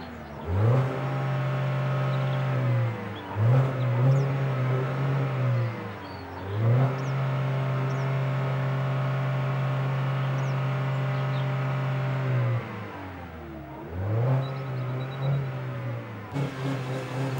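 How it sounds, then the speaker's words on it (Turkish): A parked car's engine is revved again and again with the starter, giving loud, close cycles of rising and falling engine drone, each held for a few seconds before dipping and climbing again. "araba hareket etmeden olduğu yerde marşa basıyor"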